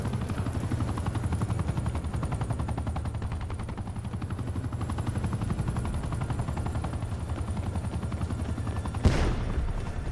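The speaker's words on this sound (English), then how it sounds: "Attack chopper available for tasking." Attack helicopter in the video game Call of Duty Black Ops 4, a steady loud rotor drone with continuous rapid gunfire chatter running throughout, and a sharp burst near the end.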